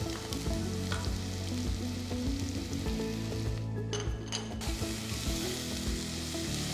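Finely chopped garlic and ginger frying in a pan for madghout, giving a close, continuous crackling sizzle with stirring, a brief flurry of sharper spatter in the middle, and a steady low hum beneath.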